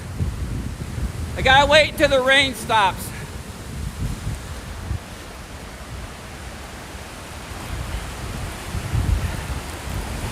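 Steady rain falling near the Mackinac Bridge, a constant broadband hiss filling the scene from start to end, with a brief burst of a voice early on.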